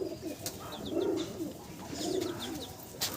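Racer pigeons in a loft coo in two clear, rolling phrases, close and moderately loud, with a few faint chirps between them and no talking.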